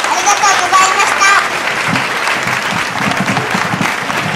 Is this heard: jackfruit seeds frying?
no